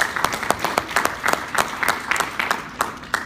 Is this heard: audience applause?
yes